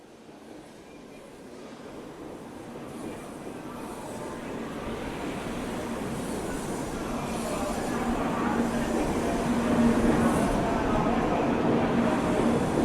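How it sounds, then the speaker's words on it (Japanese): A Shinkansen bullet train at the Hachinohe station platform gives a broad, steady rumble and rush that swells gradually louder, with a faint sustained tone appearing toward the end. "新幹線の八戸駅のホームに降り立つと、いきなり冷気がやってきた。"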